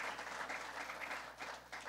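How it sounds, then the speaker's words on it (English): Audience applause at a Politics and Eggs political breakfast event, a brief burst of steady clapping from a crowd, moderately loud and uniform. "Would you give him a round of applause?"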